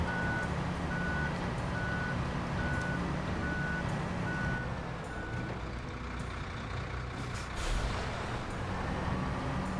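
A cement-loaded truck in the SnowRunner game backs up with a regular, evenly spaced reversing beep over a steady engine rumble, the beeping stopping partway through as the motor carries on.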